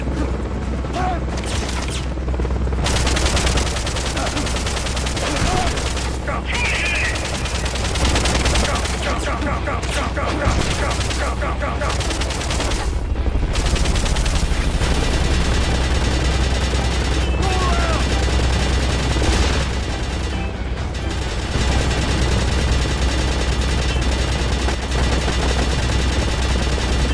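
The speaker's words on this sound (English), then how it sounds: "I like hearing gunfire sometimes when playing games" Gunfire from a video game rattles continuously, with bursts of machine-gun fire, single shots and occasional booms that stay dense and loud throughout the stretch.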